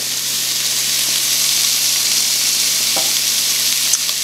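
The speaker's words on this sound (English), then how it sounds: "Come close as we put the meat in to the warm wok." Meat sizzles and fries in a hot wok, a steady dense hiss holding level throughout with a few brief crackles and pops near the end, no voices.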